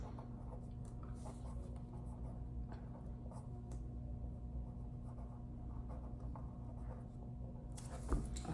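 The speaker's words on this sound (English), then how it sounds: "So we can write that down in the box." Pen or pencil writing on paper during a math lesson, a faint continuous scratching and scribbling close by over a low steady room hum, with no talking.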